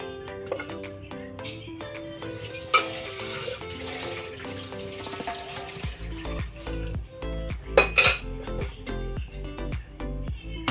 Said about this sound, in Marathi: कुकरमध्येच थोडंसं पाणी टाकून घ्यायचं आपण.